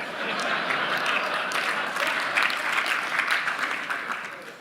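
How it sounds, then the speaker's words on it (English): A conference audience breaks into sustained applause, a dense wash of many hands clapping that rises, holds steady and slowly tapers off. "You didn't have to clap."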